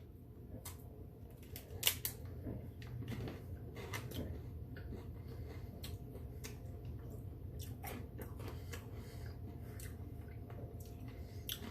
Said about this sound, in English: these sprinkles, they'll make me feel at ease as I crunch them with my teeth